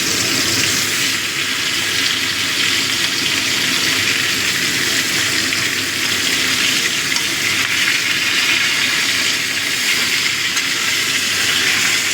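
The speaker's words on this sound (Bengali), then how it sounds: "নুন দিয়ে ভালো করে মিশিয়ে দিচ্ছি।" Vegetables stirred and mixed with salt in a pan while cooking a nine-vegetable niramish tarkari, giving a steady, loud sizzle and hiss with soft stirring scrapes throughout, no talking.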